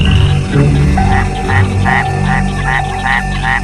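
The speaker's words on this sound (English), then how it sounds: "the Mexican white-lipped frog makes a series of chirping sounds" A Mexican white-lipped frog gives a rhythmic series of short, bright chirps, about eight evenly spaced calls, over a low humming night background.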